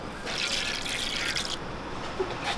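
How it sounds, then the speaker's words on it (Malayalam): Mustard seeds drop into hot coconut oil in a pan, setting off a dense sizzling crackle that holds steady for a couple of seconds before fading slightly. "കുറച്ച് വെളിച്ചെണ്ണ കഴിച്ചു കൊടുക്കാം കാൽ ടീസ്പൂൺ കടുക് ഇട്ട് കൊടുക്കാം"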